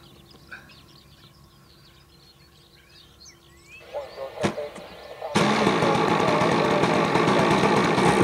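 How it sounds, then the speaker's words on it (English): An RC plane's electric motor runs outdoors at a flying field, first a faint background whine with birds, then a sharp click and a sudden loud, steady buzzing hum close by for the last few seconds. "The bearings sound so nice in that motor."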